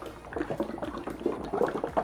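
A can of paint stripper is shaken vigorously, giving a close, rapid, irregular sloshing of liquid inside the can, with sharp bursts through the short stretch.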